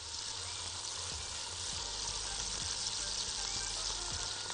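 Chopped onions frying in a pan for biryani, cooked until deeply browned, give a steady, dense hiss and crackle that holds evenly loud and close throughout, with no talking.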